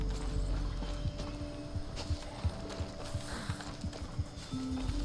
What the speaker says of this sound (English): Why is there a horse down there?